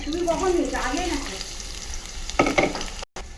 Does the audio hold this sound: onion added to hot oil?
yes